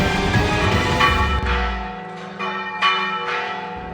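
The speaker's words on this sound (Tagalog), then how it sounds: "Pinatunog ng kampana ng Holy Trinity Parish sa Luay, Bohol sa pagdiriwang ng Pasko ng Pagkabuhay." Church bells of Holy Trinity Parish in Loay, Bohol ring out for Easter, a loud cluster of resonant strikes with long overlapping harmonic decay and fresh clangs rising every second or so, no voices.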